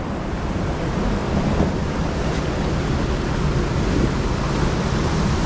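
Waterfall cascade at Efteling theme park at night, a steady loud broadband rush of falling water filling the whole clip without pause.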